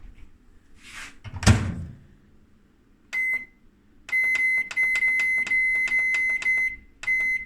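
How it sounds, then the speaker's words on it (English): A door thuds shut, then a microwave oven beeps and runs, emitting repeated high electronic beeps in quick sequence with a low hum beneath. "microwave it for 10 minutes"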